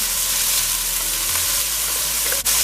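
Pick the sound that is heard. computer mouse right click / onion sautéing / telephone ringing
onion sautéing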